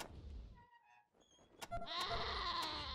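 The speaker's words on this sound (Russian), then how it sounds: "Разве для козлов нормально так кричать?" Goats in the Wasteland 2 Director's Cut video game let out a few quiet, wavering bleats and cries at low volume, with a louder muddled stretch near the end.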